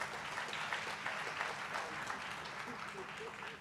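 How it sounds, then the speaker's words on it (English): A crowd at an official launch ceremony at a TVET college claps steadily in a dense, sustained round of applause that fades slightly at the end. "Let's give DP a big round of applause."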